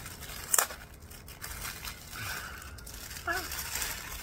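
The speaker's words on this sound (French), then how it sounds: "il y a toujours plein de scotch chez moi, le scotch. Alors, ça va faire un petit peu de bruit" A yarn parcel wrapped in adhesive tape is unpacked close up, with sharp tape ripping, crinkling and tearing of packaging in irregular bursts while someone speaks.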